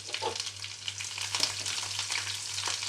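Garlic, curry leaves, onion and two dried red chilies fry in hot oil, giving a steady close crackling sizzle with scattered pops over a low hum throughout.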